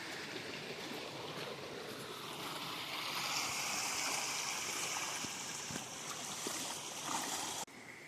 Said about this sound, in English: nothing quite compares to these amazingly relaxing river sounds